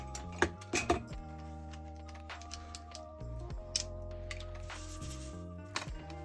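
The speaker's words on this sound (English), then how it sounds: "I then cut out using a ruler and craft knife." A craft knife drawn along a ruler through a card blank while making a handmade birthday card, giving a few sharp, close scraping cuts and clicks over a quiet tabletop hum.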